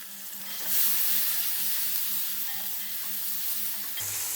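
Crushed onion, garlic and curry leaves hit hot oil in a pan for a Kerala-style soya chunks dish, bursting into a loud, steady sizzle that rises sharply and holds, then drops off near the end.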